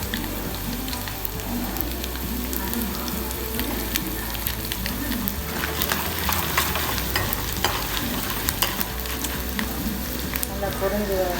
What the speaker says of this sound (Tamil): நல்லா பொரிஞ்சு வரட்டும்.